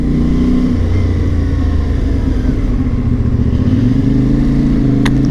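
Motorcycle engine droning steadily while riding through the streets of Monaco, loud and close with shifting pitch as it accelerates, wind rumble underneath and no talking.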